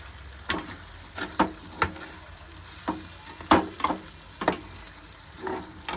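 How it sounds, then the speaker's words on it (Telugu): Dried chilies crackling and popping in hot oil, a soft frying hiss broken by scattered sharp pops, close and fairly quiet. "పుట్టుకు పుట్టుకు అని బగులుతున్నాయి మిరపకాయలు లోపల"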